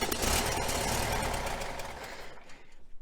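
A 1966 VW Fastback engine runs with exhaust leaking at the cylinder head, a close, loud, rough idle with a ticking pulse that fades toward the end.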